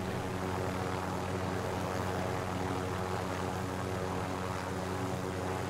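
A propeller airplane passing close by in the Call of Duty: Warzone video game, a steady loud droning engine hum with no talk over it.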